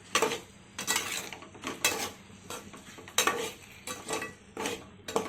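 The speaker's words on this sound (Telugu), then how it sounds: "కొంచెం మసాలా ఎగ్స్కి పట్టేలాగా ఒక్కసారి కలుపుకొని" Eggs and masala for egg curry are stirred in a pan, a spoon scraping and clinking against the metal in repeated uneven strokes, close and clear, over a soft sizzle.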